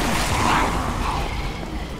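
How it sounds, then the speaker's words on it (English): Rapid gunfire in the zombie video game Resident Evil 6, set in subway tunnels, comes as a dense, continuous burst of blasts that stays loud throughout and fades slightly toward the end. "There's gunfire."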